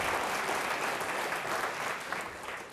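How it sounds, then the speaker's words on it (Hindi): An audience at an organ donation quiz show in Rajasthan claps energetically for a doctor and a child, with continuous, dense applause at an even level for the whole stretch. "तालियां बजाइए डॉक्टर साहब और इस बच्चे के लिए जोरदार तरीके से आप"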